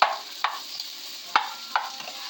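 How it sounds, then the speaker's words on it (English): Spatula stirring shrimp and chicken in a pan, a few sharp scraping strokes with pauses between them, close and fairly quiet over a faint background hiss. "Okay, so we stir these around"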